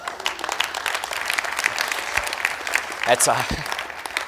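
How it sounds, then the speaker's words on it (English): Closing-ceremony audience applause, a broad wash of clapping running under a voice, with a few louder bursts near the end. "I appreciate the applause"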